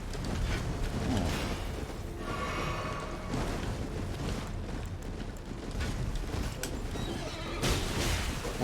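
A horse neighs in the Elden Ring video game at night, a whinny rising over dense game noise, rumbling effects and clattering hooves that run steadily throughout.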